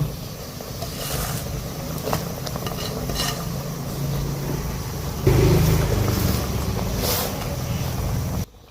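Phak khayaeng herbs go into a pot of boiling Thai fish soup with pla ra, a steady bubbling simmer with a brief soft splash partway through, heard close without talk.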